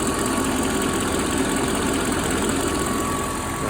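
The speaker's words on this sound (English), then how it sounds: "one of the cam oiler tubes has popped on this side" A Mercedes M119 V8 idles steadily, heard from the noisy side of the engine, where a cam oiler tube has popped loose. A constant, dense mechanical clatter and hum runs close to the microphone without change.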